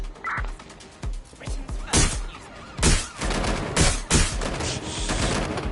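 Video game gunfire crackles in several sharp, loud bursts, with single shots and rapid volleys overlapping in a busy combat mix.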